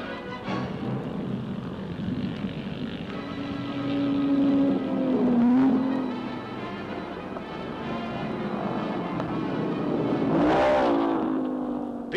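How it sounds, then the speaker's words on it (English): Vintage Grand Prix cars, a Maserati and a Bugatti, race along the back straight toward a hairpin, engines droning steadily at a distance and then swelling twice as they pass, with no talking. "Australian Jones in his Maserati passes Yendles driving Roycroft's Bugatti as they go along the back straight and up to the hairpin."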